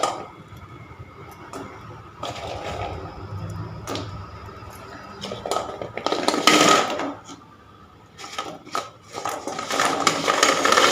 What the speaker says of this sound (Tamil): இப்போ வந்து நம்ம வச்சுருக்க அந்த குலோப் ஜாமுன் உருண்டையை வந்து நம்ம இதில் போட்டுடலாம்.